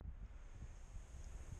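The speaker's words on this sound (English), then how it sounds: "It's a little windy, but it's nice." Wind blowing over a frozen lake during ice fishing, a faint steady rumble buffeting the microphone, with no voices.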